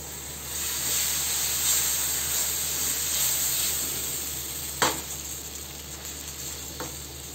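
Maida flour roasting in a pan while pesto pasta sauce is being made, a steady close sizzling hiss with soft stirring scrapes and one sharper clack partway through, and no talking.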